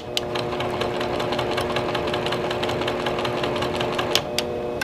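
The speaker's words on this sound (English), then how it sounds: "put my machine in manual mode, and then I'm going to feed my canvas in" A longarm quilting machine in manual mode stitches canvas with a loud, continuous rapid needle chatter that stays steady throughout, with no talk.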